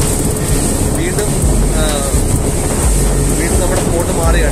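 A deep-sea fishing boat's engine drones steadily out at sea, a constant close rumble mixed with gusty wind buffeting the microphone.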